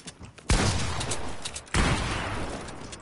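Bursts of gunfire from a PS4 video game: two sharp volleys of shots, each followed by a sustained rattle of fire, loud and close with no talk over them.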